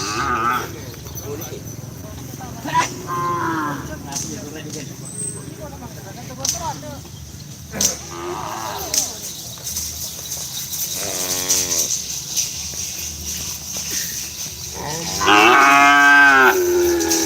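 Several loud, drawn-out moos from a large cow, nearby, repeating every few seconds, with people talking and other farm noise between them, in Pamekasan, Indonesia.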